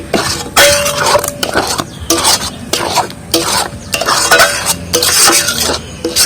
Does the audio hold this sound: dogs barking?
no